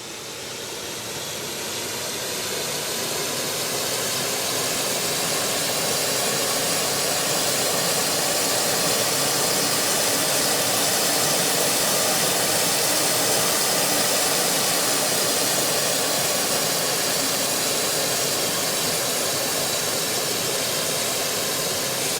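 A synthesized F18 jet engine rumbles and hisses continuously, rising briefly at the start and then holding a loud, broadband, steady roar for over twenty seconds with no voices.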